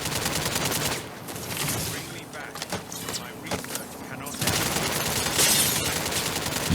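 A sniper shot and gunfire in a vehicle combat video game: dense bursts of rapid shots and mechanical clatter, loud and close, with a brief lull in the middle before the firing swells again.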